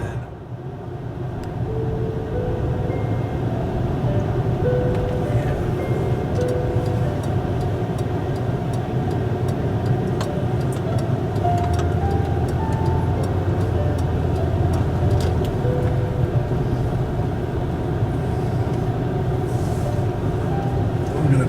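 A 2006 Mercury Grand Marquis drives along with a steady low engine and road rumble, loud and continuous from inside the cabin, with faint ticking and creaks over it and no talking.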